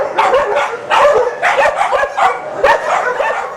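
Several dogs at an animal welfare kennel bark and yip excitedly while waiting for exercise time, loud, close bursts that overlap in an uneven rhythm, with a little whimpering among them.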